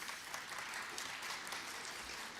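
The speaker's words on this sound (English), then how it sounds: "Big round of applause, please." A crowd at a Frosty Festival luncheon gives a round of applause, a dense and even wash of clapping that holds steady throughout.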